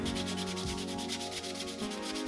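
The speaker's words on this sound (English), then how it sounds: "I go out to the garage and start sanding" Steady, continuous rasping of sandpaper rubbed back and forth over a primed 3D-printed faceplate in a garage, close up, in an even rapid rhythm with no talking.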